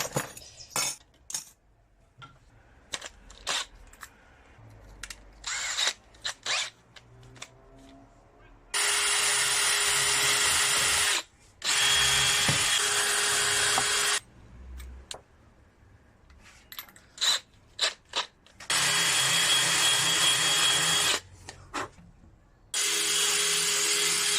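A power drill driving self-tapping metal screws whirs in several sustained bursts of a few seconds each, separated by quieter stretches of clicks, rattles and handling noises.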